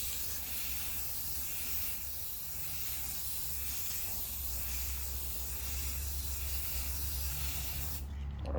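An aerosol can sprays a second coat of tint onto a car taillight in a long, continuous hiss, steady and close, ending abruptly at the finish.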